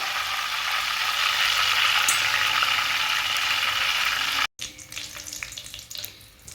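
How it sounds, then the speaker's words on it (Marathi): Raw banana slices deep-frying as chips in hot oil, a dense, loud, steady sizzle and bubbling that cuts off abruptly, then returns as a lighter, crackling fry with scattered pops. "इथे तुम्ही बघू शकता आपले चिप्स छान एकदम खरपूस असे फ्राय झालेले आहेत"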